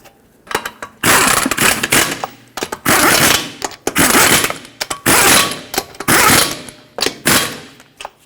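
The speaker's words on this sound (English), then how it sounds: "We'll bottom them out and torque them to 79 foot-pounds in a cross pattern to seat the wheel properly." Wheel lug nuts on a 2006-2010 Hyundai Sonata are run down with loud, close bursts from a power tool, each lasting about a second, repeated in a steady rhythm with short pauses between.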